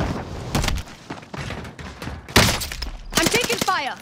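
Video game gunfire rings out in several sharp, loud bursts and cracks with crashing impacts between them, close and punchy, while someone speaks over parts of it.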